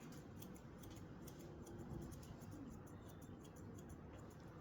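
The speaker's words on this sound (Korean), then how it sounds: "가위가 확실히 섬세하게 들어가죠." Scissors carefully trimming a corner make a quick series of faint, crisp snips in an irregular rhythm, close but very quiet.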